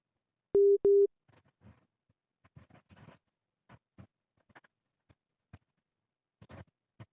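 An interrupted phone call gives two loud, steady busy-tone beeps, then faint scattered patter and soft clicks fill the quiet that follows.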